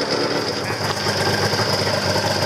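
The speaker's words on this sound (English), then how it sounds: "Look at how smooth that track runs." Track of an old snowmobile running with no throttle, a loud, steady mechanical rumble with a rapid clattering rhythm and a constant whine, close by and unbroken throughout.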